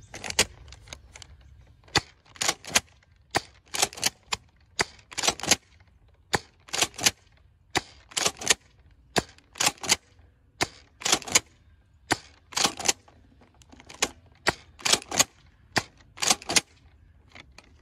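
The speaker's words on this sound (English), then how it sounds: "we're going to fire 10 darts out of each blaster at a slight incline to find the average firing range" A Nerf Strike Alpha Trooper blaster fires Elite foam darts in a rapid run of sharp, loud snapping shots, each paired with priming clacks, about twenty bursts in quick succession.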